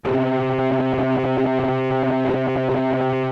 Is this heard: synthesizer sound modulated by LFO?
yes